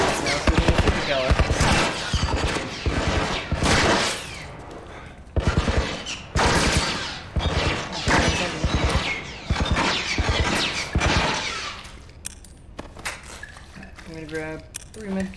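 Rapid gunfire in the video game The Last of Us Remastered, bursts of loud repeated shots in a fast rhythm over game sounds, with mechanical clatter and sparser shots toward the end.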